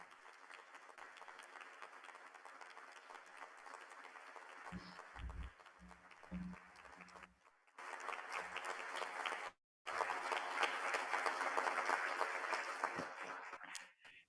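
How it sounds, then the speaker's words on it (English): An audience applauds blood donors from Mexico and around the world at a World Blood Donor Day 2022 ceremony, sustained broad clapping from a crowd that fades briefly and then swells again, continuing for many seconds with a voice faintly beneath it. "I am asking for your applause for all of these donors from Mexico and"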